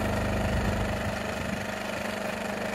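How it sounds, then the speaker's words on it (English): A gas generator running in eco mode at an off-grid shed cabin hums steadily and close by, a continuous even engine drone with a slight rhythmic pulse and no pauses. "so essentially we're changed over to the generator now"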